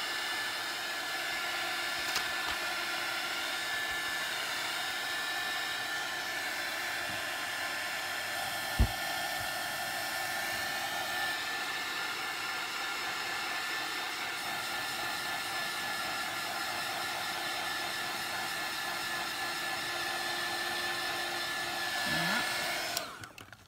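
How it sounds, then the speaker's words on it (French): Heat gun blowing hot air in a long, steady, even rush with a faint tone running through it, close and uninterrupted until it cuts off near the end. "On va refaire un peu de heat gun."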